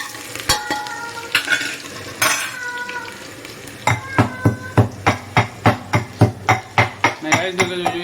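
Ingredients for Rajasthani dal baati mixed by hand in a metal vessel, first with scattered clinks and scrapes, then a fast, regular series of loud knocks and thuds near the mic.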